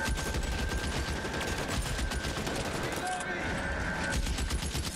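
Shotgun fire in L.A. Noire sounds inside a dense, continuous wash of loud gunfire and game noise, with no clear gaps between the blasts.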